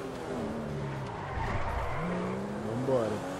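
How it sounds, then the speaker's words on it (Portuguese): A car in GTA 5 drifts with tire squeal, engine tone dipping and rising as the tires screech through the slide, with a voice talking over it. "Olha o drift."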